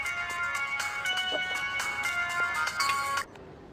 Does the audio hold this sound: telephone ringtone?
yes